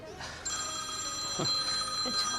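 An electronic telephone ring sounds steadily at moderate volume indoors in a Gujarati comedy drama, a sustained tonal ringing with light background noise.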